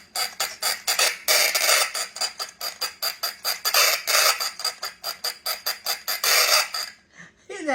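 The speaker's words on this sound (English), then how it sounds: "You turn this little crank, and listen, it sounds just like a chicken." A small metal and wooden hand-crank toy made to sound like a clucking chicken gives off a loud series of rapid, rhythmic scratchy clucks in bursts as the crank turns, with no voices over it.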